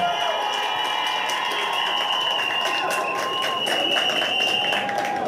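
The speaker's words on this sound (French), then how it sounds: "qu'on peut encore applaudir, s'il vous plaît" A crowd at a presidential campaign meeting in Ndjolé applauds steadily, with sustained clapping and cheering over a droning tonal background and scattered voices.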